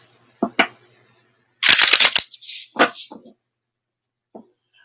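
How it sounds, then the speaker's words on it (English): A deck of playing cards is riffle-shuffled up close, with a few soft card taps before a dense, crisp flutter of cards, then a quieter bridging rustle and light squaring taps. "I'm going to give these a few shuffles up and cut"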